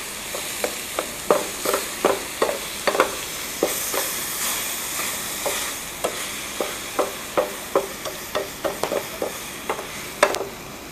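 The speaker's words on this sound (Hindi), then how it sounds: "चीनी मिक्स होने तक और इसको गाढ़ा होने तक हम दरमियानी आंच पर पकाएंगे।" Apple halwa with sugar stirred in a pan over medium heat, a regular series of spoon scrapes and taps over a soft continuous sizzle, close and alone.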